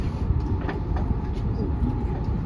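A passenger train speeds toward Strasbourg, heard from inside the carriage as a continuous rolling rumble with faint rhythmic rail clicks beneath.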